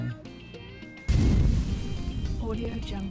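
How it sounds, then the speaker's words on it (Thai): After a brief quiet stretch, a loud burst of crackling, popping campfire erupts and keeps snapping and rumbling, recorded with the microphone placed right in the fire. "อันนี้เสียงไฟ"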